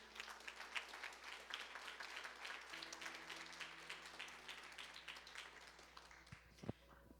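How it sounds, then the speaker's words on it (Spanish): A church congregation applauds during a sermon, a soft, steady wash of many hands clapping from a distance under a faint sustained tone, with a couple of sharper knocks near the end. "¿Cuántos le pueden dar un aplauso al Señor?"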